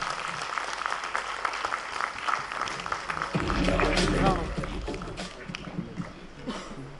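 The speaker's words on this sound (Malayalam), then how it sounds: "നല്ല കൈയടി വേണം കേട്ടോ" An audience claps in a hall at a success meet for a Malayalam film as the producer is welcomed on stage, a busy wash of applause that peaks midway, with people talking over it.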